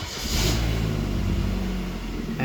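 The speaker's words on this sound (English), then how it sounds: "the engine starts now" A 1993 Pontiac Grand Am engine cranks and catches after ignition work, then settles into a steady idle hum, close by, with a brief rise at the end.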